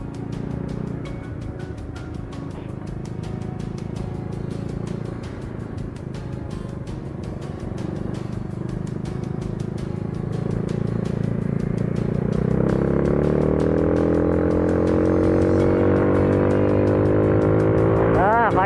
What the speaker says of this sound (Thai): ท่อผ่าหมก ก็คือเสียงมันจะเงียบเบาๆนะ